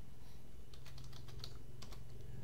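Brief burst of typing on a computer keyboard, a dozen or so quick close key clicks over a low steady hum, with no talk.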